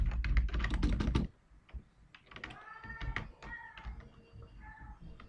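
Computer keyboard typing, a quick loud burst of keystrokes followed by softer scattered taps, with a cat meowing several times close by.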